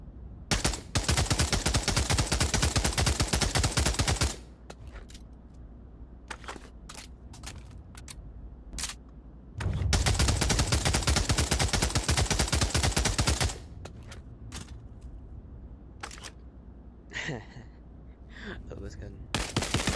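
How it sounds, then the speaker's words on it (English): Grease gun firing on a gun range in Pavlov VR, with two long sustained bursts of rapid automatic fire broken up by single shots and short volleys, plus a few mechanical clicks near the end. "Alright, grease gun."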